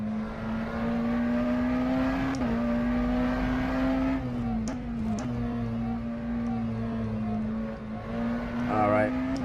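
A McLaren Senna hypercar's engine drones at a steady high pitch in rFactor 2, holding a sustained note with small dips as it shifts and lifts, loud and continuous.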